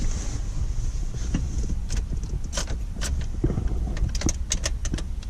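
Faint clicks and metallic jingles of a key working in a Mazda Miata's ignition, small sharp ticks scattered over a steady low rumble, with no talking.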